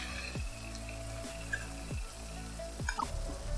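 Chicken frying in a pan with cooked-down tomatoes gives a steady close sizzle, broken about every second by soft scraping thumps of stirring.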